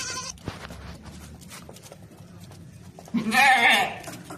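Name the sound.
Makhi Cheeni goat bleating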